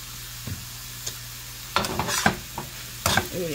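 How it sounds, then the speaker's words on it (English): Food stirred in a frying pan with a spoon, a few distinct scrapes and clacks against the pan over a faint sizzle, close by and without talk. "Let me just get this stirred and mix a little bit."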